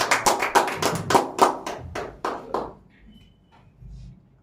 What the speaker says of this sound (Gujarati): એક વખત જોરદાર ક્લેપિંગ આપના માટે